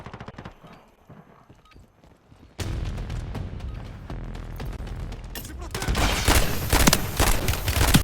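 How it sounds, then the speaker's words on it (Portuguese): Gunfire rattles through a Call of Duty Warzone match: quieter scattered shots at first, then dense, loud overlapping bursts that build to a heavy, nearly continuous barrage. "Estão atirando em mim."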